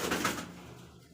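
Domestic pigeons at a pigeon farm give a brief, soft coo up close, fading quickly into quiet room noise.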